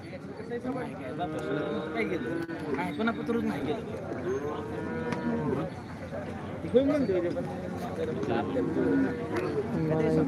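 Cattle moo at a cow market in Modnimb, with several drawn-out lowing calls rising through steady crowd chatter and nearby voices.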